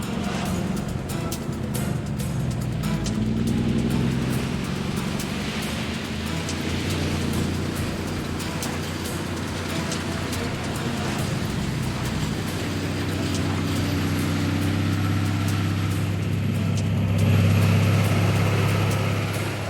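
A truck crosses a river in the Outback, its engine rumbling steadily under a broad wash of splashing water, rising to a louder, strained drone toward the end as it pushes through.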